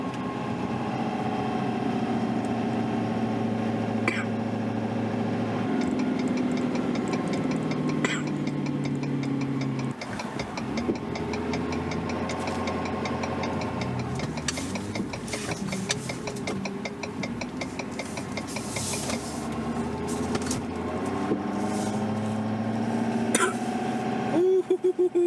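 A diesel truck pulls a heavy trailer in first gear with the trailer brake applied, its engine a low, strained drone that shifts in pitch, with intermittent ticking and someone talking over it.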